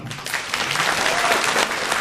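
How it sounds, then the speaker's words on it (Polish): Applause fills an indoor hall at the Walor 2016 amateur art review award ceremony in Lower Silesia. Steady, dense clapping from a seated audience carries on throughout at a moderate level. "Wielkie brawa!"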